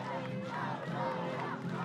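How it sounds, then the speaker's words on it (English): Crowd cheering for Team Italy at a rowing victory ceremony for single scullers at the World Rowing Under 19 Championships in Varese, Italy; a steady, dense roar of voices throughout, with a public-address tone running underneath. "Big cheer"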